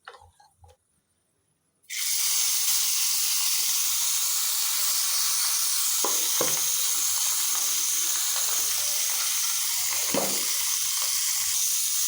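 Small puti fish (pool barb) go into hot oil in a new kadai, starting a loud, even sizzle after brief quiet handling sounds, with a couple of soft clinks partway through.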